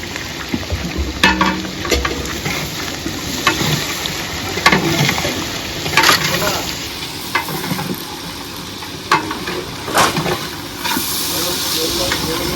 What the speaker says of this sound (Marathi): तेल टाकलेलं आणि कांदा देखील टाकला